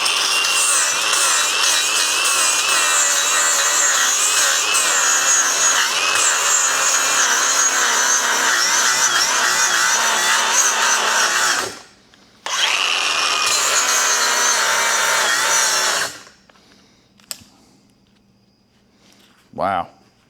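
An angle grinder grinds welds off a homemade steel cultipacker, a loud continuous harsh whine that stops briefly, resumes, then cuts off and leaves near quiet with a couple of short knocks.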